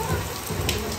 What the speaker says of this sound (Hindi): इतनी बारिश शुरू हो गई